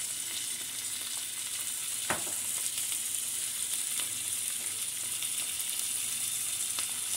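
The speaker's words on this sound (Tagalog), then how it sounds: "Ayan nating maluto muna itong mga seafood." Mixed seafood with shrimp frying in a pan, a steady bright sizzle with occasional clicks of stirring, no voices.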